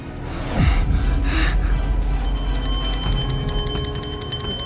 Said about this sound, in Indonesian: tiba-tiba bunyiin lonceng?